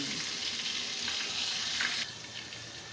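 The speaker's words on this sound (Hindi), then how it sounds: "जी लहसुन अदरक हमारा भी भुन गया है" Freshly pounded garlic and ginger fry in a pan while cooking chicken nihari, giving a loud, steady sizzle with a brief stirring scrape partway through and no talking.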